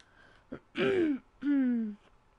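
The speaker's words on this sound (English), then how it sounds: "let me just cough for a minute" A person coughs once briefly, then clears the throat in two drawn-out, rasping bursts, close and fairly quiet, with no talk.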